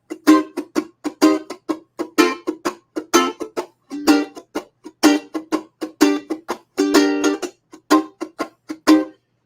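Reggae swing strum on guitar, a steady stream of short, choppy muted strokes in a bouncy down-up rhythm, each chord clipped off quickly, played alone for several bars.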